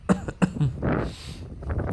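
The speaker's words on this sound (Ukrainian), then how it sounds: "ще раз перепрошую за свій кашель" A couple of short, sharp coughs up close, followed by a rough throat-clearing rasp.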